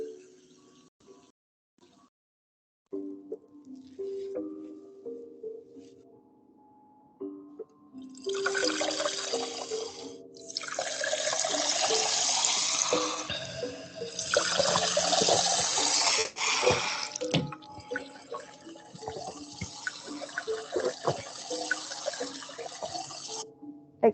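Cold water runs from a tap in steady gushing bursts that start and stop several times, fairly close and loud, with a few faint clinks and quieter gaps between the pours.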